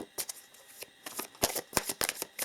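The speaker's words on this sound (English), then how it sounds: "So let us also pull some romance cards here." Romance oracle cards shuffled and pulled from a deck by hand, giving soft, irregular riffling and flicking bursts at close range with brief pauses between them.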